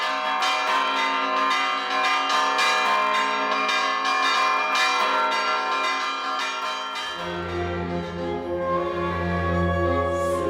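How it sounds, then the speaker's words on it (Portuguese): Bells of the São Francisco church in São João del Rei, Minas Gerais, ring loudly and continuously, overlapping strikes blending into a rich sustained clang, with deeper bells joining toward the end. "os sinos da Igreja São Francisco ainda hoje participam da tradicional Batalha dos Sinos"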